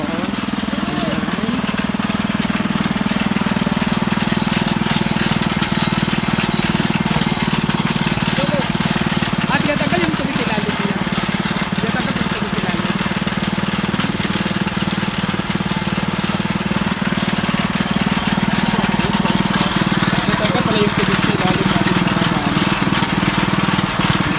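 A gasoline engine drones loudly and continuously nearby, a steady rough hum like a small motor running without pause.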